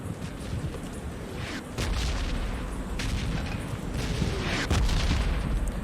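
A flare gun fired in the mobile game PUBG Mobile Lite, heard as a couple of muffled booming bursts over a dense, steady rumble of game noise.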